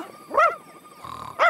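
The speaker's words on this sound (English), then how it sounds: "Odie, stop barking!" Cartoon dog Odie lets out two sharp, loud barks, one early and one near the end, with a short quiet gap between them, the bark alone with no talk over it.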